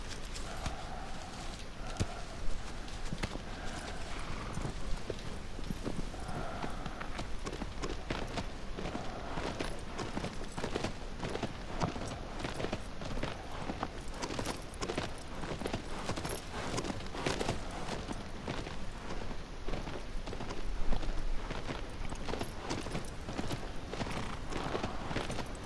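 Horse hooves clip-clop steadily in Shadow of the Colossus, a continuous rhythmic trotting that runs close and clear throughout, with faint bits of other sound underneath.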